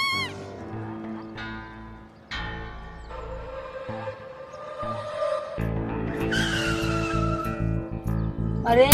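On a family road trip, a car brakes to a stop with a loud, drawn-out tonal tire screech and skid that builds in loudness toward the end, with no clear talking.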